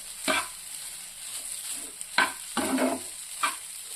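Rice mixed with masala is stirred in a pan, and several distinct scraping strokes of the spatula sound over a soft, low sizzle.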